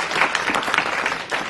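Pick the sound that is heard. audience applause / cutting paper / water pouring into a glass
audience applause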